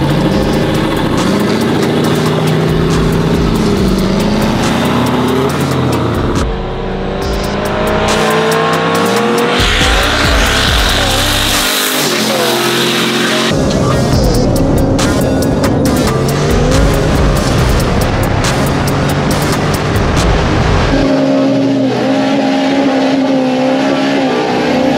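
Turbo K20-swapped Honda Civic and turbo SS-clone Chevrolet Silverado racing, loud engines revving through gear changes with sharp bursts, tire squeal and turbo whoosh, continuous and close, no talk.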